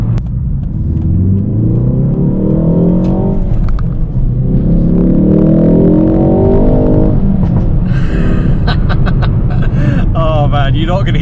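A 2022 MK4.5 facelift Ford Focus ST launches hard on launch control, its loud, close engine note climbing steeply through one gear, then another, before sharp clicks and clatter near the end.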